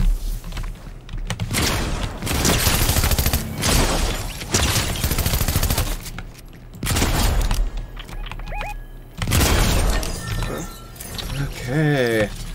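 Shotgun gunfire in the video game Fortnite, several loud blasts in bursts separated by short pauses, mixed with game sound effects and a voice talking.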